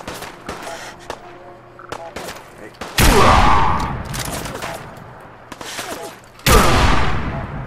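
Gunfire in Fallout 4 erupts in two loud, broad bursts, one about midway and one near the end, over quieter scattered shots and game ambience, with a brief spoken word.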